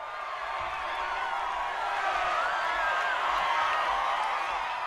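A large crowd cheers and shouts continuously, a dense wash of many voices holding steady and swelling slightly, heard from some distance.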